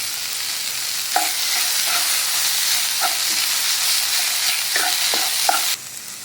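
Roasted gram and grated coconut sautéing in a pan, a steady loud sizzle throughout with a few brief spoon scrapes and taps against the pan.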